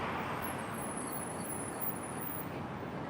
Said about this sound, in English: I gotta wait for the traffic.